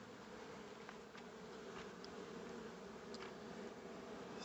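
Honeybees in a long hive make a dense, continuous buzz that stays steady and fairly quiet, with a few individual bees droning past close by.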